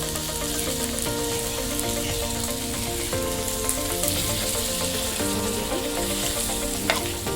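Fish pieces and curry leaves fry steadily in a pan, a dense continuous sizzle with occasional stirring scrapes, close and fairly loud throughout, no voices.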